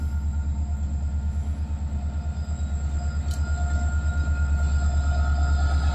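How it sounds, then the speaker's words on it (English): An Amtrak passenger train rolls past on railroad tracks near a rail yard, a steady loud rumble with rhythmic wheel clatter and faint squeal, building slightly toward the end. "There's an Amtrak."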